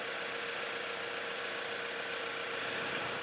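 A car engine idles steadily just after a cold start, warming up with a constant broadband hum and faint mechanical vibration, no voices.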